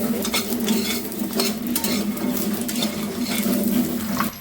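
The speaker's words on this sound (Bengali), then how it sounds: "লাল লাল করে ভেজে নেব বড়িটা বড়িটা ভাজলেই ভালো লাগবে" Lentil dumplings (bori) frying in a pan, giving a dense, continuous sizzle close up, broken by the scrape and clink of a utensil stirring them throughout.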